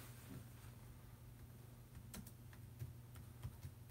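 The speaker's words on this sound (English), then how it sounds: "Let's try typing my name in and see what that does." Computer keyboard typing, a steady run of light close key clicks over a low constant hum, with a few slightly louder taps.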